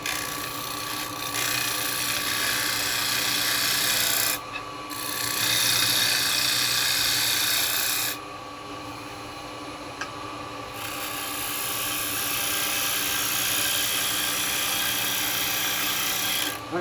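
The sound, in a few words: wood lathe turning, cleaning edge with round chisel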